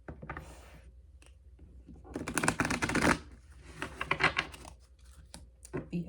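A deck of cards being shuffled by hand, a crisp riffling rustle that builds into dense bursts of fluttering card clicks, pausing and resuming in short rapid runs, close and moderately loud with no talking.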